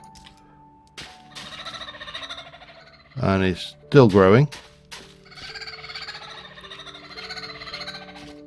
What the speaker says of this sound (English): There's kookaburras,